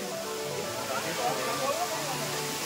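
Steady broadband rush of water pouring at the Nhavankond waterfall near Talavade, continuous and fairly loud throughout, with faint voices mixed in.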